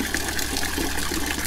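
Water runs from a tap to fill a bucket at an off-grid tiny house, a steady close rushing splash with no talk over it.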